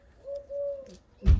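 A pigeon in an aviary gives a soft, close coo in two drawn-out notes, followed by a short bump of handling noise at the end.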